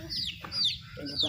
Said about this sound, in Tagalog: Mga manok niya, oh.